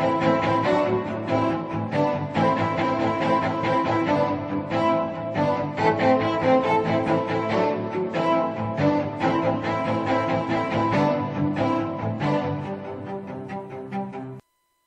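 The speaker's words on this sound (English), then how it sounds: "the solo strings marcato from the Spitfire solo strings, and you get a sound like this" Layered marcato string section from Session Strings Pro and Spitfire solo strings plays a steady run of short, accented detached notes, dense and full for about fourteen seconds before stopping abruptly.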